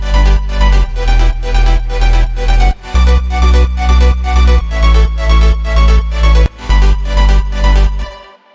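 A progressive house drop plays loud and alone: pumping sub and mid bass, chords, an arpeggio, claps and rides in a steady four-on-the-floor rhythm, with brief bass dropouts between phrases.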